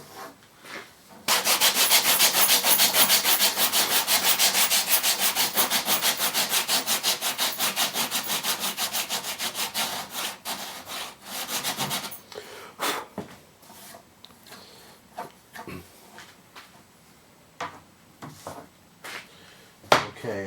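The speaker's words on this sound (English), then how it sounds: "So I just sand a little bit." Rapid back-and-forth sanding on the bevel edge of a laminate countertop, a loud steady rasping for about ten seconds, then fading into scattered lighter rubs and taps.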